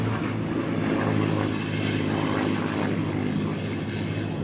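A Spitfire Mark 2 fighter flying at the Duxford airshow, with a continuous throaty piston-engine and propeller drone at moderate distance, steady and without voices.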